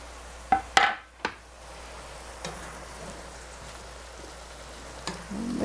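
Pork being mixed in a single pan, a few sharp metallic clanks of a utensil against the pan up front, then a soft continuous sizzle with occasional scrapes.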